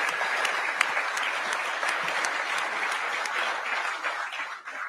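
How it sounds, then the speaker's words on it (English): Audience applause at a press conference announcing a new domed stadium deal for the Washington Commanders, a steady round of clapping that holds for several seconds and thins toward the end. "Give the commissioner a big round of applause."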